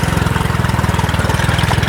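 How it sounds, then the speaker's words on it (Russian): A small boat outboard motor runs steadily at close range on a river, a low rapid chugging pulse with a constant even rhythm and no voices. "На моторе едем."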